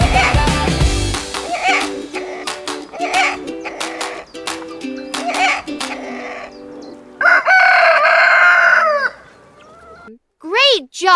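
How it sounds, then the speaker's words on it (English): A rooster crows cock-a-doodle-doo at dawn, heard over a children's song with music, then a loud, clear crow rises alone near the end. "Cock-a-doodle-doo at dawn. Rooster sings a morning song."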